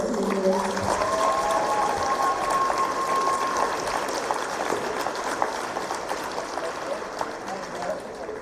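Crowd in a high school gym applauds the seniors on basketball senior night, a busy roomy wash of clapping and cheers that runs throughout, with speech over the top early on.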